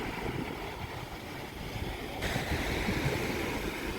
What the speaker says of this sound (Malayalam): സ്പീഡ് ബോട്ട് എന്നാണ് ഇതിനെ പറയുക.